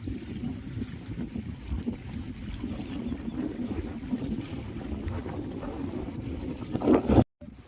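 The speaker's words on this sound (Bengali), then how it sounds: "ট্রলারগুলো কিন্তু সোজা বেরিয়ে পঞ্চমুখীর দিকে হয়ে যাবে।" Trawler boats heading out along a Sundarbans waterway give a steady, low engine rumble with wind noise, continuous and moderately loud, before a sudden cut near the end.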